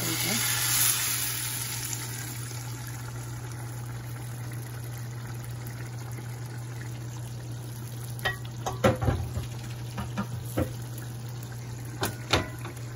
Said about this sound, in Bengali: একটু তেল দিয়ে দেবো এখান থেকে ভাজা